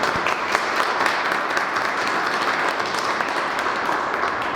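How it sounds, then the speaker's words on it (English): Audience applause at a high school culinary classroom ribbon cutting, a steady wash of many hands clapping at even loudness for several seconds, no voices standing out. "Let's give her a round of applause."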